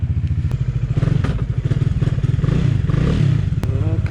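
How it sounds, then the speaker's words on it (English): A motorcycle engine idles and chugs close by on a day's ride in Menchuka, with a steady throbbing rumble, some clattering and a slight rev toward the end. "Feels like after many days I'm hopping on the bike again"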